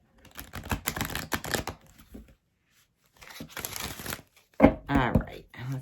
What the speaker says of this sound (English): let's do a little shuffle here